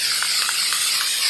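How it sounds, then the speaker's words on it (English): Multicolored textured Rust-Oleum spray paint hisses steadily from the can onto plastic terracotta pots outdoors on a windy day, a close, continuous airy spray. "we're taking multicolored textured Rust-Oleum spray paint and we're hitting our plastic terracotta pots with it"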